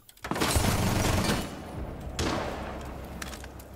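In a shooter game, a gunshot lands as a headshot on the character Ash: a loud crack with a reverberant tail, then a second sharp report a couple of seconds later that fades out.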